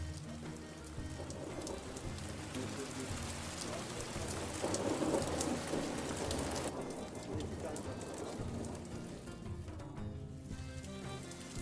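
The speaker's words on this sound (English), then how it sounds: "Under the rain, in the black lake, together with the rain, witness the touch of thunder on water." Steady, heavy rain patters across a black lake in Artvin, Turkey, while a low rumble of thunder rolls underneath, continuous and enveloping throughout.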